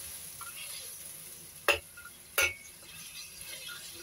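Chicken feet sizzle steadily in a seasoned pan, and two sharp scrapes of a spoon stirring against the pan stand out above the constant frying hiss.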